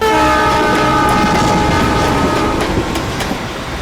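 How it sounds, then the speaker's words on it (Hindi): A train bound for Delhi runs steadily along the tracks with a loud, continuous rumble and clatter and a sustained horn-like tone over it, the noise easing slightly toward the end. "इसीलिए हम दिल्ली की ट्रेन में चढ़ गए"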